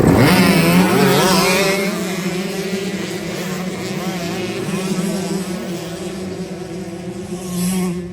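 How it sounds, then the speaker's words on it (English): Dirt bike engines at a motocross dead engine start, several bikes firing up together into a loud buzzing roar that holds and wavers, with faint crowd noise behind. "This is the dead engine start. They've got to watch for the green light, and then they'll try to fire them up and get away."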